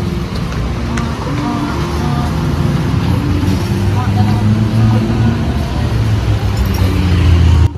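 A Bandros tour bus rumbles through Bandung traffic, its low engine drone steady and loud inside the cabin, with people talking over it.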